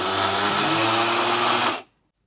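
A mixer grinder whirs steadily while grinding mango, jackfruit and banana into a paste for paniyaram, a loud continuous motor drone that cuts off abruptly near the end.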